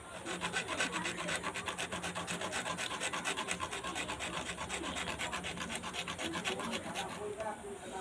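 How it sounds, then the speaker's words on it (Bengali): Very hot chillies are ground on a grinding stone in a children's play-cooking game, making rapid, steady back-and-forth rasping strokes that repeat evenly and close up for several seconds. "এবারে আমি লঙ্কা বাটবো"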